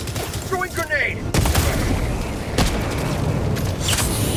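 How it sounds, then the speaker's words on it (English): A grenade detonation in Helldivers 2, a loud sudden boom after a shouted voice, followed by sustained rumbling blasts and gunfire filling the battlefield. "Throwing grenade!"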